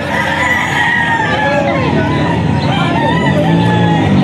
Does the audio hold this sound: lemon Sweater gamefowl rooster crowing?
yes